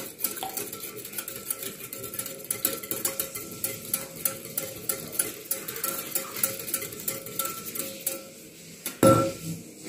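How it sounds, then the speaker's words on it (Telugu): Curd whisked into thick buttermilk for dahi vada, the whisk clinking rhythmically against a bowl in steady, close strokes with a louder knock near the end. "ఒకసారి విస్కర్ తో మొత్తం కలిసేలాగా సాఫ్ట్ గా అయ్యేలాగా బీట్ చేసుకోవాలండి చిక్కటి మజ్జిగలా చేసుకోవాలి"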